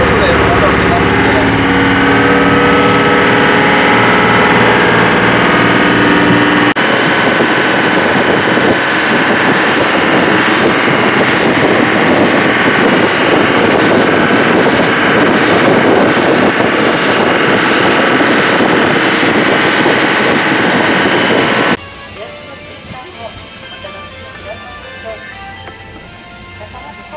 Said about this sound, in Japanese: 今からちょっとボートで渡ってますんで